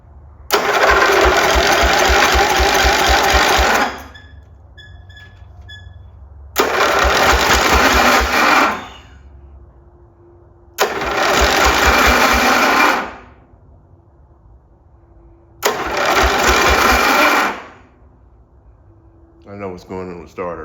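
A Snapper mower's engine fires and runs in four bursts of a few seconds each, loud and close, with a rapid chugging pulse, and it cuts out between runs while an old starter struggles.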